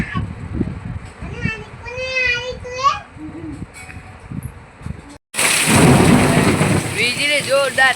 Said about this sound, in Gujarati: વીજળી જોરદાર થાય છે.